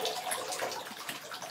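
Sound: water trickling from a tap into a dog bath

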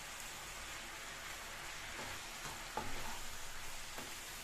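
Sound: gongura leaves frying in a pan

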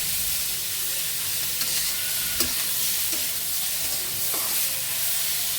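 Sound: onion and green chili frying with potatoes and pointed gourd

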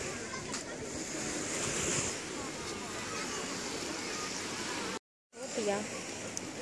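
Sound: Baltic Sea waves with wind

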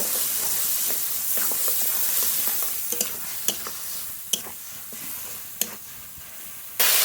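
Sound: frying and stirring spice paste with green chili, salt, turmeric

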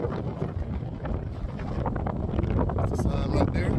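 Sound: strong wind on the Bonneville Salt Flats

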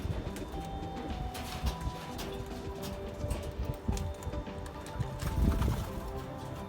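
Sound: pigeons cooing

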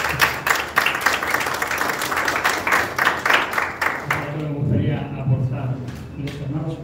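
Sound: audience applause

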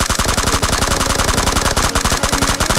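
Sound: gunfire in video game PUBG Mobile

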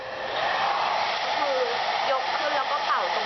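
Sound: hair dryer blowing the hair roots dry

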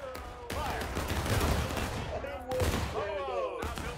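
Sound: musket volley fire in the video game War of Rights

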